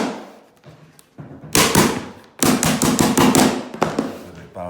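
Sharp, loud hammer blows drive blind carpet gripper strips into a floor during carpet-fitting prep, coming in uneven bursts of rapid strikes with short pauses between, close up and without talk.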